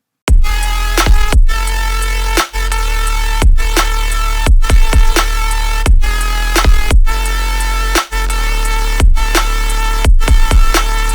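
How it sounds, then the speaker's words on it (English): A loud, buzzy Serum synth patch modelled on a supersonic sound, its pitch repeatedly sliding and swooping in rhythmic bursts, with brief dropouts between phrases and no voices. "You can hear that this pitch sliding effect makes it all much more interesting"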